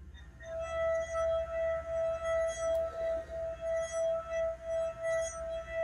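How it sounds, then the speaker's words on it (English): A wet finger circling the rim of a water-filled drinking glass makes the glass sing: one pure, sustained ringing tone that swells and dips in a steady rhythm, heard alone. "If you get water and put it in a glass and dip your finger in it and go around the edge, this is the sound that it makes"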